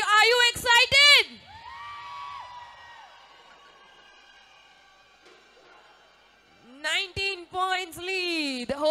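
Spectators at a basketball national championship semi-final cheer for Tamil Nadu, loud whooping and shouting in bursts at the start and again near the end, with a quieter lull between.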